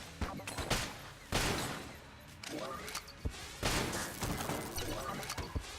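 Video game Enter the Gungeon gunfire: repeated sharp, loud shots and bursts, some with a shattering crunch, arriving in irregular clusters over a noisy game soundtrack.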